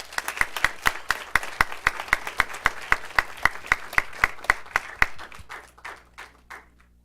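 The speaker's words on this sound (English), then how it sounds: "Let's give him a round of applause, please." Applause from the audience at a North Las Vegas City Council meeting: a steady run of crisp, evenly spaced claps that thins out and fades toward the end, with no talking over it.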